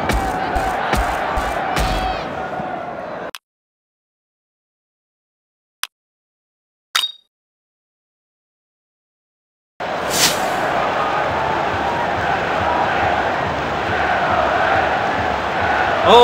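Stadium crowd cheering in Dream League Soccer 2018, a loud continuous roar of massed voices that cuts out into near silence for several seconds, broken by two brief clicks, then swells back steadily.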